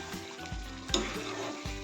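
Afghani chicken curry bubbles and sizzles in oil inside a kadai, a close, continuous crackling fry with small pops and bursts of spitting.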